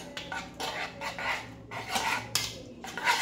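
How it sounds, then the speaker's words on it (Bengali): Egg being whisked with pepper and salt in a bowl for egg toast, giving repeated close clinks and scrapes of a utensil against the dish in bursts, with no talk. "সব কিছুকে খুব ভালোভাবে আমি মিশিয়ে নেব।"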